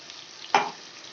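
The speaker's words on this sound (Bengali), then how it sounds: "এই যে মশলাটা পেস্ট করে রেখেছি মশলাটা আমি তেলের মধ্যে দিয়ে দিলাম" Spice paste hitting hot oil with onions for a Bengali katla fish curry gives one sudden loud sizzle burst that quickly fades into a low steady frying hiss.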